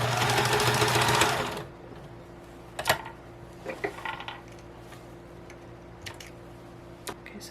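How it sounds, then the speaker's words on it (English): A sewing machine stitches around fabric cut from upcycled curtains, a loud rapid whir lasting under two seconds, then quiet with scattered small clicks and taps of handling. "Just going to go ahead and sew around it."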